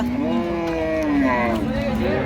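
A young bull moos in drawn-out, close, loud lowing calls that rise and fall, with voices of a livestock market crowd in the background.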